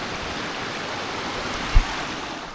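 A river stream flows steadily in the Dark Peak moorland near Snake Pass, Peak District, a broad continuous rush of water with one brief low thump partway through.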